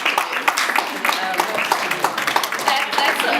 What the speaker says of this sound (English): give a great round of applause for your parents for pushing you